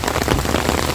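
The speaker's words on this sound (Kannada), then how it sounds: "ಈ ಮರಗಳಿರೋದ್ರಿಂದ ದಪ್ಪ ಪನ್ನೆ ಮರದಿಂದ ಬೀಳುತ್ತೆ." Large raindrops fall from trees during a heavy downpour, producing a dense, close patter of impacts over a steady rain hiss.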